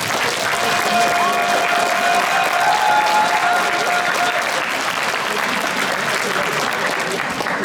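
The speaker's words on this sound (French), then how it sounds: "merci de les applaudir très fort" A packed hall bursts into loud, sustained applause for the jury at a solo cosplay contest awards ceremony at Japan Impact 2018. The dense, even clapping continues for several seconds without letting up.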